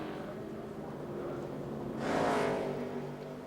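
A NASCAR Busch Series race car laps Richmond International Raceway during qualifying, its engine drone swelling as it sweeps past and then fading, fairly distant and heard alone without talk.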